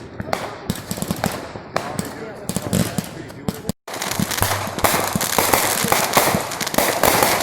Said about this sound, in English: Now they're like little actual fireworks.